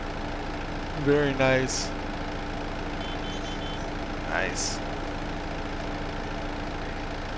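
A small Kubota tractor in Farming Simulator 22 cranks and starts with a short starter whir, then settles into a quiet, steady idle hum under a man's brief spoken remarks.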